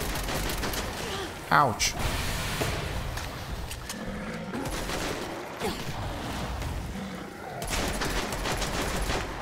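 Gunfire in the zombie game Dead Island 2 crackles through a dense, noisy mix of game effects and distant explosions, with a few sharper bursts standing out, while someone talks over it.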